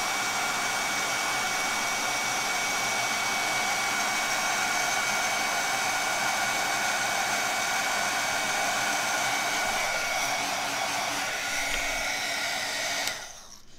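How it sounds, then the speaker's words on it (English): A heat tool blows steadily, a constant loud whirring hum with an airy rush as it melts embossing powder on a card, running without a break before cutting off abruptly at the end. "Let me get my heat tool warmed up and I'll melt this powder."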